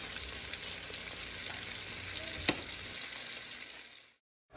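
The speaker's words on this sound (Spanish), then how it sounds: "vamos a agregar la cebolla y el chile dulce juntamente con el ajo picado y lo sofreímos por unos 5 minutos" Onion, sweet pepper and minced garlic frying in a pan with chicken, a steady close hiss of oil with one brief clink before the sound cuts off abruptly, no talking.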